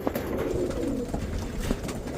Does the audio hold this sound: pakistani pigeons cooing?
yes